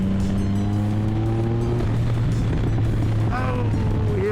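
Triumph Speed Triple 1050 motorcycle engine droning steadily up close with rising and falling tones, a loud continuous roar under wind noise, with a brief higher whine near the end.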